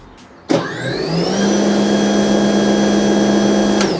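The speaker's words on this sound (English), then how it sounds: "to engage the snowblower, you have a safety button here, so you want to press it and then pull down on this lever." A Litheli U20 cordless snow blower starts with a sharp onset and then runs at a steady, loud electric whir with a constant tonal hum, close by and with no speech.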